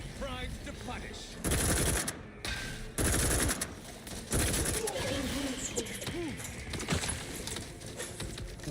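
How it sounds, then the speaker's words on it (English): Gunfire in a video game comes in loud bursts of rapid shots mixed with other game effects, some stretches denser than others. "Why are you shooting at me?"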